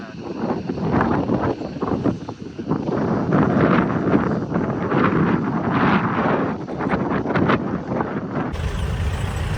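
Strong wind buffets the microphone at the Vagamon hilltop viewpoint, a loud continuous roar and rumble that never lets up, with a brief sharper gust right at the end.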